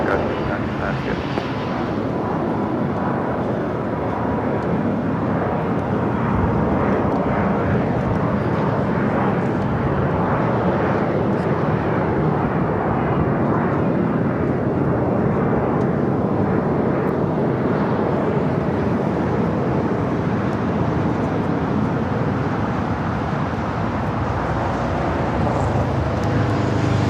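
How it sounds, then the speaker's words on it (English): A LATAM Boeing 787 Dreamliner begins taxiing at LAX, its continuous engine rumble and whine steady and fairly loud throughout, with talk over it. "A Latam Dreamliner starting its taxi"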